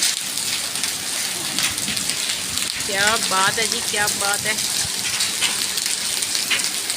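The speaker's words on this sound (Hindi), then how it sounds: "बारिश अभी अभी शुरू हुई और साथ ही ओले भी पड़ना शुरू हो गए" Steady, dense rain mixed with hail hisses throughout at night in Lahore, with a speaking voice briefly heard in the middle over the downpour.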